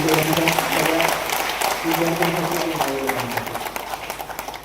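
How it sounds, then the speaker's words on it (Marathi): An audience at a large political workers' gathering in Nashik claps steadily, the dense applause fading slightly as a voice speaks over it. "परत एकदा एक मोठा टाळ्यांचा आज होऊन जाऊ दे"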